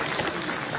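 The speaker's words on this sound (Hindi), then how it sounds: "तालियां बजाते रहिए" Brief burst of audience applause at a political gathering in Uttarakhand, a dense wash of clapping filling the whole moment with crowd noise.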